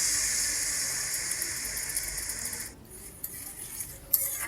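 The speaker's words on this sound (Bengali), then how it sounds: "এরপর মশলার বাটিটা ধুয়ে আমি বেশ কিছুটা জল দিয়ে দিলাম" Water from a rinsed spice bowl pours into a cooking pan of Kashmiri chili powder for a paneer and potato curry, a steady soft hiss that cuts off partway, followed by faint clinks.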